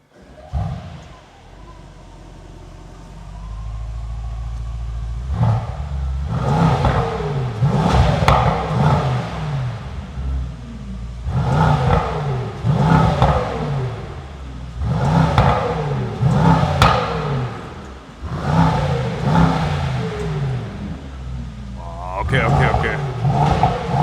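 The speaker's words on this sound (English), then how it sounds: "now it's time to listen up to the sound of the GT63 SE" Mercedes-AMG GT63 S E-Performance V8 revved from outside the car: loud, deep bursts of throttle in several clusters, each flaring up and dropping back over a steady rumbling idle, close by.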